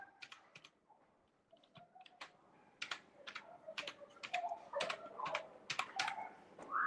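Someone types on a computer keyboard in MS Word 2013, entering an email address: a run of quiet, uneven key clicks in bursts, with a louder keypress at the end, in a hushed room with no talk.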